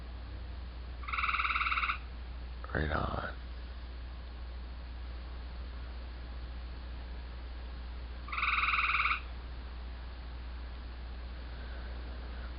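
Frogs croaking at night, two short bursts of repeated croaks several seconds apart, fairly distant over steady background hiss, with a brief spoken remark between them.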